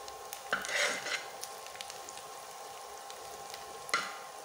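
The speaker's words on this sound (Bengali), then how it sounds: "পেঁয়াজগুলোকে হালকা ব্রাউন কালার করে ভেজে নেব" Onions frying in a pan toward light brown give a soft, steady sizzle, fairly quiet, with a few brief utensil clinks and stirring scrapes near the start and end.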